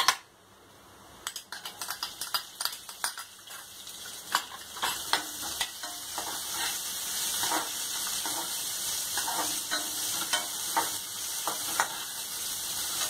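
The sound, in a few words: garlic and onions frying and being stirred in a pan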